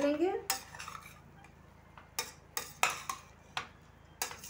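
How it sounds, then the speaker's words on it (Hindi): Jackfruit roasting with spices in a pan, stirred with a utensil that scrapes and clinks against the metal in separate sharp taps over a faint sizzle, with no talk. "2-3 मिनट तक हम इसको मसालों के साथ"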